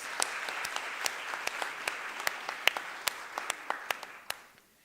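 Audience applause at a public lecture by a deputy minister of international relations, with scattered, distinct hand claps over a steady wash of clapping that fades out near the end.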